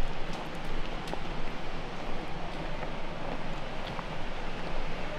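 A waterfall close by along a hiking trail, a steady broadband rushing roar with no breaks, loud and continuous throughout like wind-driven surf.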